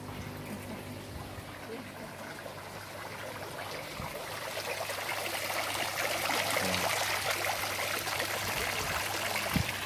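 Water streams steadily into a backyard fish pond used for raising red and black tilapia, a continuous close trickle and rush that swells slightly louder as the pond fills.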